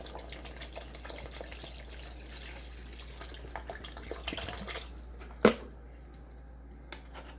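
Bottled water is poured into a pot of creamy chicken noodle soup as it cooks, a faint run of splashing and dripping, with a sharper splash near the end and no talk.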